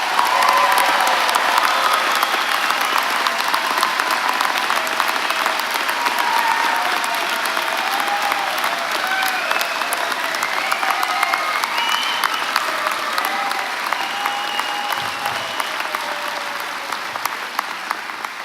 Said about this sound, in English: Let's give our graduates one more round of applause,